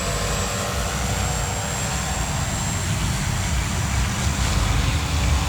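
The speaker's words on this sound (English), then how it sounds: "Look at that gorgeous little airplane, guys." Fi156 Storch camouflage balsa RC model airplane with a 1600 mm wingspan in flight, its motor and propeller giving a steady, fairly loud drone with a constant broadband wash that holds even throughout.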